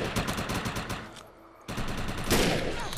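Rapid automatic gunfire aimed at a Hellbug boss in the shooter game Defiance, loud fast bursts that pause briefly and then resume harder.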